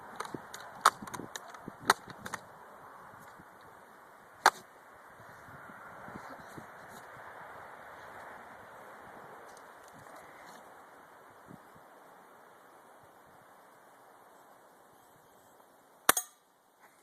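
.177 caliber air rifle shots sound as a few sharp, quiet cracks spread out over a low, steady outdoor background, with a small cluster near the start and one louder crack near the end.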